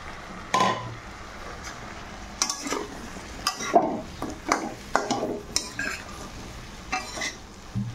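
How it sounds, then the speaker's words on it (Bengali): Cut potatoes and pointed gourd are stir-fried in a pan, with irregular scraping and clinking strokes of a spatula over a low sizzle and brief pauses between strokes. "এখন আমি কেটে রাখা আলু আর কাঁকরোলগুলো দিয়ে অল্প কষিয়ে নেব।"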